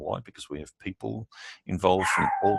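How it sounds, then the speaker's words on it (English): A dog barks a few times in a room during a cyber security talk, sharp yips mixed among a man's speech, with the barking strongest near the end and overlapping his voice. "Excuse me, that's my dog."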